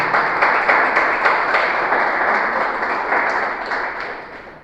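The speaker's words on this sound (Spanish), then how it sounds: "aplaude con todo tu corazón" A church congregation applauds together in a dense, steady wash of clapping that holds for several seconds, then gradually fades away.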